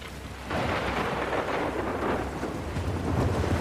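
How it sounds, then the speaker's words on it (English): Thunderstorm with rain in The Last of Us Part II video game, a deep rolling rumble of thunder swelling over a dense, continuous hiss of heavy rain, loud and without voices. "Thunderstorm."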